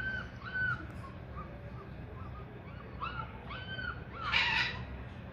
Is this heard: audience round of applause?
no